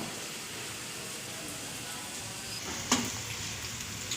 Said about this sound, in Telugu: ఉల్లిగడ్డలు మంచిగా brown colour and gold colour వచ్చేంత వరకు అయితే కలిపేసుకున్నాం